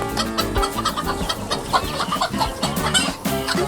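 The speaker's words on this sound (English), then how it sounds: "Listen to the sound they're making. It's like a little cluck, cluck, cluck, cluck, isn't it?" Hens in a farmyard chicken coop cluck steadily and fairly loudly, a busy overlapping chorus of short clucks throughout, with no talking.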